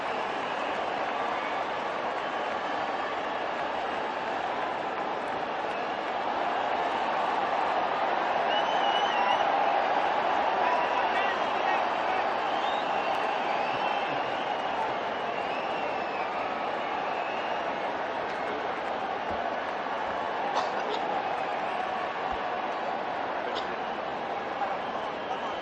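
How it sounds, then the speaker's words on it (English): Sustained crowd applause fills a stadium at a cricket match, a dense even roar of clapping that holds steady and swells slightly near the middle. "the applause is something to behold."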